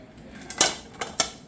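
A large cooking pot is handled, giving a few sharp metallic clinks and knocks spread over a second or so, quiet and close, with no talking.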